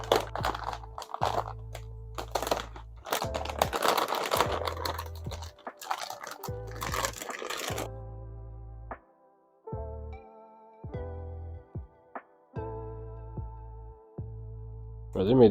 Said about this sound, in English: Let's get into unboxing the graphics card.